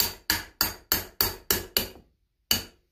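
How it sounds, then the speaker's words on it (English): A hard steel hammer, not a rubber mallet, strikes a Kohler CH18 engine part during a head gasket replacement: six sharp metallic blows in quick succession, a short pause, then one more, loud and close. "I probably should have a rubber mallet right now, but we're going to try the universal hammer."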